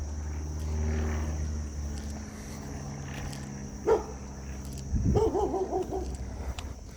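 A dog barks a few times from a short distance, with the loudest burst near the end, over outdoor background noise and a passing car.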